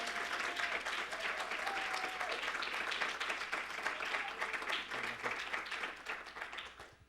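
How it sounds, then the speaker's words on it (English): An audience gives a sustained round of applause after a talk on reggaeton and Catholic theology: dense, even clapping that holds for several seconds, then thins and fades toward the end. "I think we owe him another round of applause."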